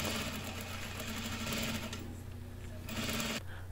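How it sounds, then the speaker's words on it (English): Close-up sewing machine stitching the yoke seam of a men's button-down shirt at a half-inch seam allowance, a continuous rapid whirring hum for over three seconds before it cuts off. No voices. "Pin it and sew at half of an inch seam allowance,"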